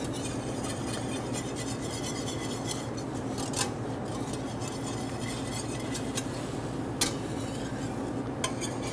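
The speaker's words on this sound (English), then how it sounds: "You keep them moving, but you're going to use a whisk because you want them really broken apart, broken down" A whisk works scrambled eggs in a pan over lowered heat, making a continuous scraping and stirring sound with occasional sharp metallic clinks against the pan, close up and with no talking.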